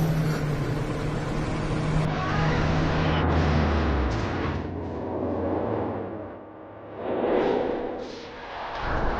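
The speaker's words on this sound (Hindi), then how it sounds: "अरे वो देखो, मिस्टर सिंह की गाड़ी है।" A car drives up nearby, its engine a loud steady rumble that swells, fades briefly, then surges again with whooshing road noise, no talking.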